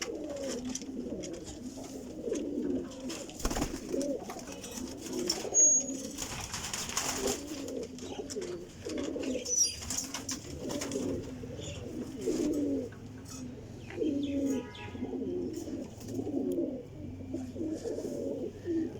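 Golden pigeons coo repeatedly in a continuous, overlapping chorus of soft, throaty calls, close and moderately loud, with faint background noise and an occasional light knock.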